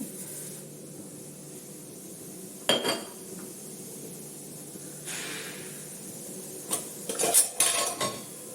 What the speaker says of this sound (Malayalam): അപ്പോൾ നമുക്കിനി പാത്രങ്ങൾ എടുത്ത് നോക്കാം നല്ല ആവി പറക്കുന്ന പാത്രങ്ങളാണ് കപ്പൊക്കെ തിളങ്ങുന്നുണ്ട്